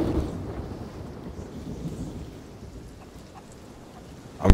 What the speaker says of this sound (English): since it's raining.